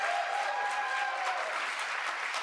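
A debate hall audience at the Iowa Republican primary debate applauds and cheers, a continuous wash of clapping from a large crowd with no voices standing out.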